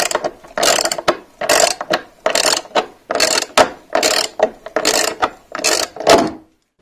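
A ratchet drives screws into an OSB wall panel on a DIY timber-frame build, its pawl clicking in about eleven steady, loud bursts of ratcheting strokes with brief pauses between them.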